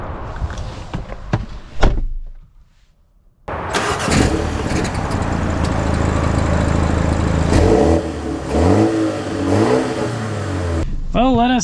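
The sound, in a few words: BMW X1 SUV driving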